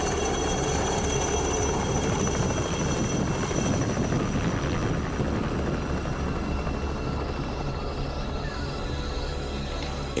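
A helicopter drones steadily overhead, its rotor chop and engine whine forming a loud, continuous roar with no voices.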